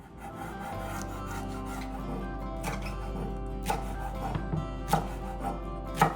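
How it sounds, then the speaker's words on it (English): A knife scrapes and taps against a cutting board while chopping dino kale, with a steady rasping rhythm and a few sharper chops toward the end. "let's get those chopping up. For my greens, I'm gonna be using dino kale."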